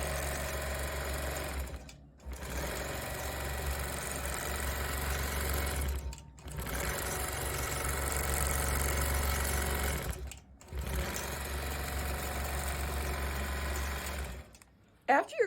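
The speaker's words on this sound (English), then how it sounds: "I'm going to just start the machine so you can see it running." A longarm quilting machine stitches a pantograph pattern across a loaded quilt, running in a loud continuous buzzing drone that stops briefly three times before resuming.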